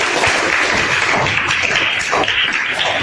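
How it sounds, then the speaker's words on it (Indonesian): A classroom applauds a group of students with steady, dense clapping that fills the room at close range, with no pauses for its whole length. "Tepuk tangan buat kelompok."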